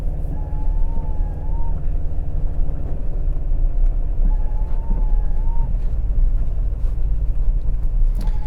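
A 2024 Toyota Tacoma TRD Off-Road on KO3 tires drives through snow, a steady low engine and road rumble with wind noise heard from inside the cab, continuous and moderately loud, no talking.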